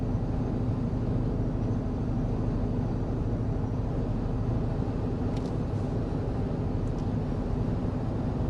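Inside a 2025 Nissan Armada or Toyota Sequoia SUV cruising at 55 mph, a steady low road and wind roar fills the cabin, constant and moderately quiet with no talk.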